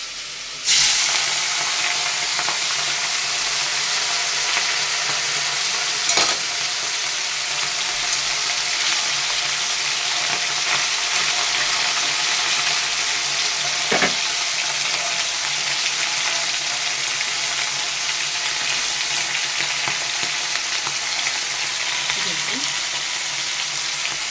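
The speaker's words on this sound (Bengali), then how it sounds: "তেলটা আমার গরম হয়েছে, এবার আমি মাছগুলো ছেড়ে দিচ্ছি।" Small mourala fish hit hot oil in a wok and set off a sudden loud sizzle that holds as a steady, dense frying hiss for over twenty seconds, with occasional pops and clinks.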